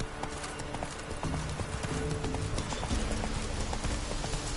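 Roach, the horse from the video game The Witcher 3: Blood & Wine, trots with a steady, close, rhythmic clip-clop of hooves over continuous ambient background.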